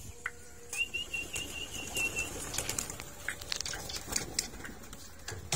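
Racing pigeons on a mud roof flap and flutter their wings in quick bursts as they take off and move about, with a faint whistle and light pattering in the background.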